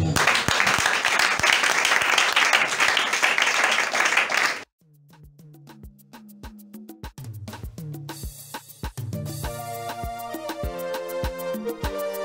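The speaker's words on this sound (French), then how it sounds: "Au nom de Jésus, on acclame le Seigneur." A church congregation at a Sunday service applauds loudly for several seconds, then the clapping stops abruptly and music with piano or keyboard notes takes over.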